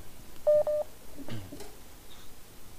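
DTMF telephone dialing tones for a radio call-in line: a short run of clear keypad beeps, two tones in quick succession, fairly faint over a quiet background.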